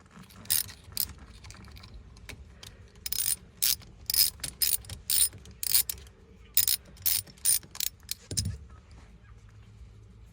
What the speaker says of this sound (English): We'll just unscrew that now that it's more easily accessible.